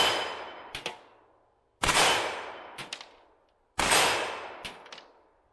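Three large-caliber gunshots strike an AR500 steel target outdoors, each a loud blast trailing into a long decaying echo, with a sharp metallic ring from the hit plate following shortly after each shot.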